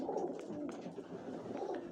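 Pigeons back at their loft coo in soft, repeated low murmurs, a close, continuous flock chorus with a faint ambient hiss behind it.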